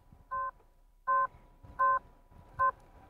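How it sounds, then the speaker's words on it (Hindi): A 2023 Ather 450X Pro Pack scooter's turn indicator beeps four times at a steady, even pace, a clear electronic tone over a low background rumble. "I think this is the आवाज़ ऑफ इंडिकेटर"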